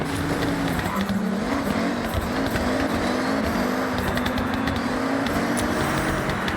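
A Mazda MX-5 drives in Forza Horizon, its small engine holding a steady, slightly wavering note that stays loud and close throughout with faint tire noise, no talking.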